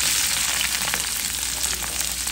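Onion, green chili and garlic fry in oil with panch phoron, a dense, even sizzle up close with faint scraping of stirring underneath and no talk.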